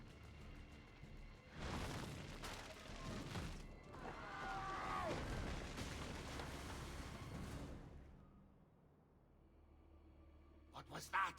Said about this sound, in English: Probably just kids with firecrackers.